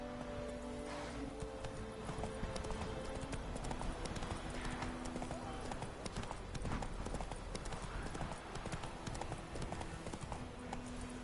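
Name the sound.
Roach the horse galloping, from video game The Witcher 3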